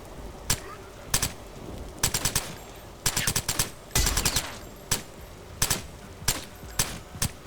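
Bursts of M60 machine gun fire in The Last Stand: Aftermath, several short rapid volleys spread across the stretch with brief pauses between them, loud and close.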